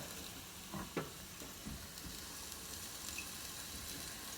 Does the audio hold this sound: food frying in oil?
yes